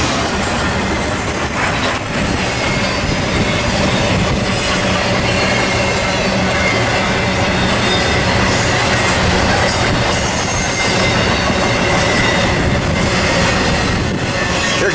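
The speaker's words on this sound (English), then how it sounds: "Train's gone, Wes." Freight train rolling past near Barstow, California, a steady loud rumble of railcars with rail clatter and occasional wheel squeal filling the whole stretch without pause.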